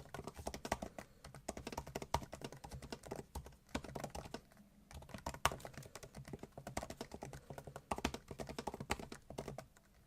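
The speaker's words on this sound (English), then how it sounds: "Here's just a quick sound test typing on the keyboard itself." Rapid, close-up clicking of 2018 MacBook Air keys being typed on, a steady patter of light taps with brief pauses.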